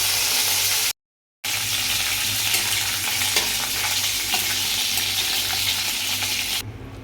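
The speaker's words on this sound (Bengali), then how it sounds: "এখানে আমি ডাল বানাচ্ছি, তো তেলেতে আমি জিরে, শুকনো লঙ্কা আর কারি পাতা দিয়েছি।" Cumin, dried chilli and curry leaves sizzle loudly in hot oil for dal, a dense, continuous crackle that cuts out briefly near the start, then resumes and holds steady.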